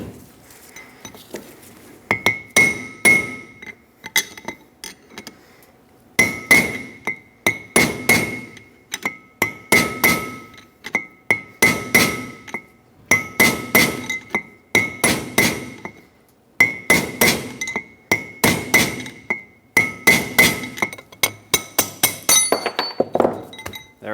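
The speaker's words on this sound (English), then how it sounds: "Use a punch and a hammer and just walk it around one side at a time." Steel hammer blows on a punch driving a front wheel bearing race out of a 1995-2004 Toyota Tacoma 2WD hub, loud ringing metallic strikes in rapid bursts of several hits separated by short pauses.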